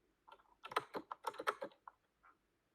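Computer keyboard keys typed in a quick, uneven burst of clicks at close range, with a short pause and a final lone tap, heard alone with no talking.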